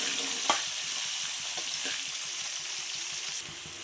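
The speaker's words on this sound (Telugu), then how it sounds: "ఇప్పుడైతే మన ఎర్రగడ్డలు కూడా వేగిపోయాయి" Sliced red onions frying in a pan of oil for a fish curry give off a steady, close sizzle with faint stirring clicks, one sharp knock near the start, and no voices.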